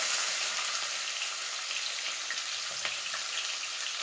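Mustard seeds and curry leaves sizzle in hot oil as a tempering for a pundi palya, producing a steady, soft crackling fry with faint pops and no talking.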